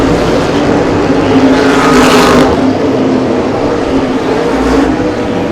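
Modified race cars on an oval track, loud engines roaring and droning close by as cars pass in steady waves, one surging pass swelling and fading, with no voices over the noise.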